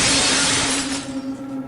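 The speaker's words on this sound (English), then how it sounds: "The glass shattered, and shards of glass fell to the floor." A glass window shatters in a horror scene, a loud crash of breaking glass with a bright spray of shards fading over under two seconds.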